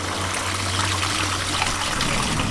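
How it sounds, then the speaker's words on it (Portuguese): Grey water from a shower and a kitchen sink, used for washing dishes, drains steadily as a continuous close trickle and gush of running liquid with a low hum beneath it, and no voices. "isto são as águas provenientes do chuveiro e da cozinha. De lavar a louça."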